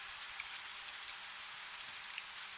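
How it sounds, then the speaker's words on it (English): Steady rain drums on a stone roof in a medieval scriptorium, a dense, even hiss of countless drops with faint scattered patters, soft and continuous with no voices. "Only the rain remains, a steady drumming on the roof, and the soft patter of drops against the thick glass windows."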